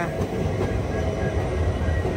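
A goods train hauled by three bunker locomotives rumbles past steadily in heavy rain near Dudhsagar Falls on the Goa line, a dense continuous roar of wheels and wagons close by with rain hiss throughout.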